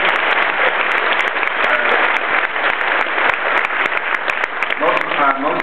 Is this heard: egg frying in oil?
no